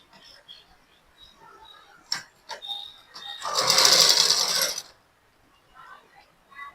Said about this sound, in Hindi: ऐसे पकड़ेंगे और इसको ऐसे सिलाई लगाएंगे